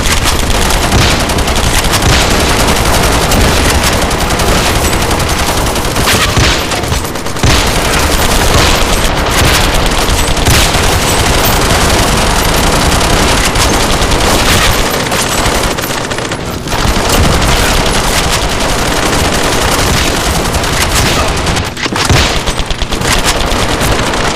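Dense, relentless gunfire from several guns in an offline mobile shooter game's team deathmatch mode, rapid automatic bursts and booms crowding together at full volume with no letup.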